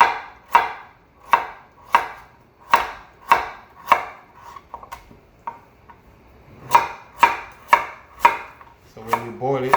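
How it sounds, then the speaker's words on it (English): A knife chops pumpkin into small pieces on a board, sharp, evenly spaced chops in a steady rhythm, a short pause, then another run of crisp cuts, close and clear with no talking. "the pumpkin now, gotta be careful when you cut it because this thing always roll over and slide"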